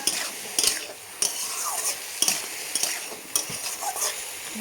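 Potato curry with turmeric and green chili paste stirred in a pan for a potato, pumpkin and Malabar spinach dish: a low steady sizzle broken by about five sharp spoon scrapes at regular intervals, close up, no talk.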